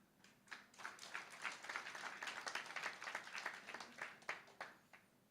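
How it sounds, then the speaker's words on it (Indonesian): A church congregation gives a faint, scattered round of applause during a sermon. The clapping rises and falls in uneven bursts and sounds distant, with no clear talk over it. "Tepuk tangannya kayak orang ngiri."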